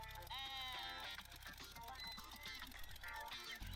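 Sheep bleat in a Wizards 4 video game match, a few wavering electronic bleats over a dense, constant music and effects bed.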